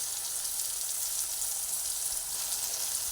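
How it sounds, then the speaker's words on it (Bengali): Pointed gourd (kakrol) pieces frying in hot oil give a steady, even sizzle and crackle with no pauses, close and fairly quiet, with no talking. "এরপরে কাঁকড়গুলোকে তেলের মধ্যে দিয়ে আবার ভেজে নেব"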